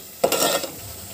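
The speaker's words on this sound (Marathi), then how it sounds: "मसाला आपल्याला ना मोठ्या गॅसवर 3 ते 4 मिनटं चांगला परतून घ्यायचं आहे।" Masala sizzles and scrapes under a spoon in a hot pan over a high flame, a single close, brief stirring burst followed by a low steady sizzle.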